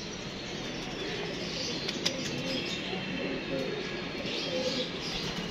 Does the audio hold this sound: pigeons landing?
yes